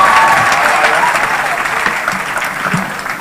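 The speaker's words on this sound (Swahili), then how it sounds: "Tumpigie makofi mtoto wetu." A crowd at a Kenyan public gathering applauds a child, loud dense clapping that starts strong and slowly thins out, with some voices audible in the mix.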